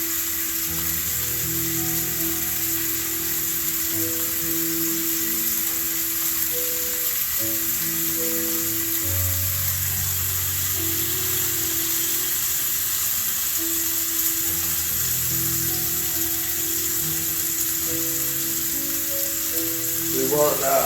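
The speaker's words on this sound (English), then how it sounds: "We'll make sure we get it seared both sides and on the sides." A chuck roast sears in a hot pan for a Sunday family meal, giving a steady, even sizzle throughout with a voice talking over it at times.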